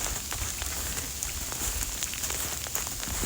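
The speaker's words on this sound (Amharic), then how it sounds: "ስቲል በረዶም እየጣለ ነው ያለው" Wet snow falls like rain in a residential neighbourhood, making a steady, fine pattering and dripping hiss with scattered close drops throughout.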